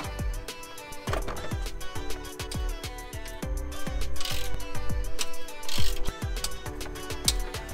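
A ratchet wrench loosens crash bar bolts on a Mitsubishi Evo X, with rapid, crisp, close metallic clicks in repeated runs and brief pauses between strokes.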